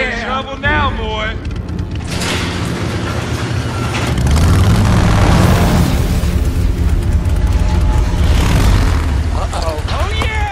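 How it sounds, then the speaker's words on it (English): A loud, deep bomb explosion booms and rumbles for several seconds in the video game Dead Rising 3, heard over engine noise and game sound effects, with a voice talking briefly near the start and end. "Here comes the bomb!"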